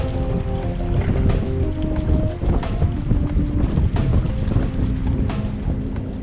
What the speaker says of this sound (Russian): пронизывающий такой ветер у нас